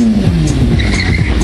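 Stunt car tires screech loudly in a burnout at a stunt cup event, a sustained close skid squeal over the roaring engine, with no pauses.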